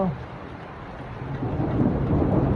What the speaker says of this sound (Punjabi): ਮੀਂਹ ਆ ਗਿਆ